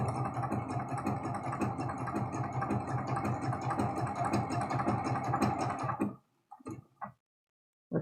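A sewing machine stitches steadily around a quilt block with a fast, even mechanical chatter that runs continuously, then stops abruptly and leaves a few faint clicks and handling sounds before silence.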